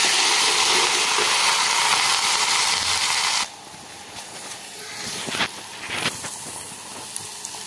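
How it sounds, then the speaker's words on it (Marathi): Crushed chili thecha fries in hot oil with mustard seeds, giving a loud, steady sizzling hiss for about three and a half seconds before it drops to a quieter crackle with a few scraping stirs. "आता मी कुटलेला ठेचा परतून घेत आहे।"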